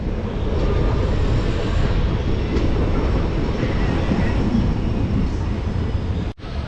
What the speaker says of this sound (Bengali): এই 96 কিলোমিটার পার করে এই ট্রেন চলে এলো একদম বাগড়াকোট